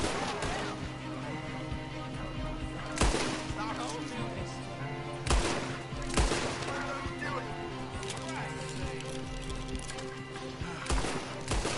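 Several sharp gunshot bursts crack out at irregular intervals over a dense, steady soundtrack with low rumbling ambience in the video game Red Dead Redemption.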